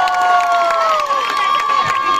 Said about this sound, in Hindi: जोरदार तालियां for the superstar ladies and gentleman.